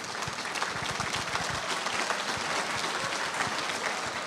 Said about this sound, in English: So huge round of applause to everyone on the panel,